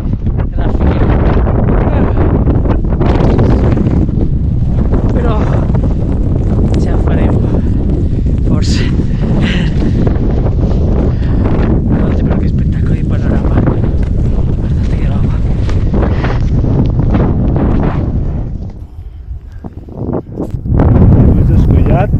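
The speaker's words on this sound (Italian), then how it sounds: "Qui stiamo lottando, stiamo lottando contro il vento." Loud, steady mountain wind in the Dolomites near Cortina d'Ampezzo buffeting the microphone throughout, roaring and gusting, with a brief lull near the end before it surges again.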